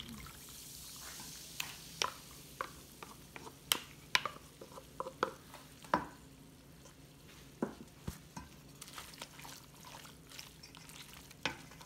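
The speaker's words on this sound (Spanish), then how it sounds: "Y vamos a agregar más refresco." Soda poured into a shrimp cocktail, faint fizzing and crackling with scattered clinks, drips and stirring taps, quiet and close with no talking.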